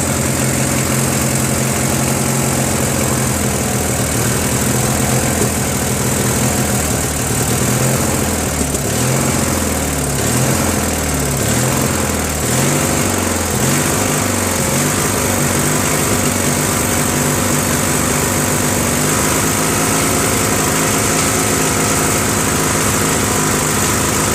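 A Briggs & Stratton 16HP opposed twin engine from a Murray mower runs loud and continuous at full throttle, a steady droning roar with slight wavering in pitch throughout.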